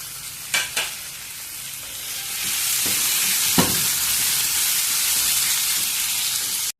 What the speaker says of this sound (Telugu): ఇప్పుడు ఈ చామదుంపల్ని వేసి కొద్దిసేపు ఈ నూనెలో వేయించుకున్నాము